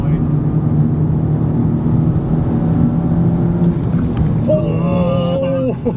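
A Honda Civic Type R engine drones loudly and steadily in the cabin, with a brief rising squeal near the end as the car slows hard while the brakes are bedded in.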